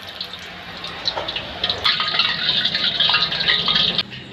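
Water splashes and trickles as it is poured and stirred into bajji batter for a tea-shop style snack, a continuous gurgling, sloshing flow that ends abruptly.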